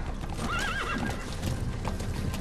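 A horse in Metal Gear Solid 5: The Phantom Pain neighs with a rising, wavering whinny over steady hoofbeats clip-clopping at a gallop near a cliff, loud and close, with busy background noise throughout.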